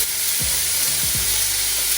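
Pork chops sizzle steadily in a hot pan, a constant bright frying hiss running through the whole stretch with a few low thumps and scrapes, close and fairly loud with no talking.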